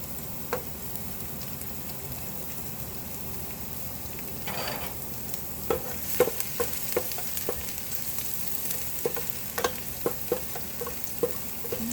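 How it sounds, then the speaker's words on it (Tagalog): Garlic frying in hot olive oil makes a soft steady sizzle, punctuated by sharp irregular spatters and utensil ticks, close and alone with no talking. "Mainit na po ang ating mantika. Olive oil po ang ginamit ko mga tita. Inuna ko lang yung garlic."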